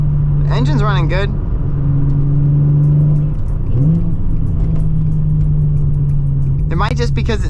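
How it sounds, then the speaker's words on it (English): A Nissan 350z engine with a recent misfire and new ignition coils runs steadily while driving in light rain, a constant low hum with a slight rise in pitch partway through, while people talk at the start and the end. "The engine's running good."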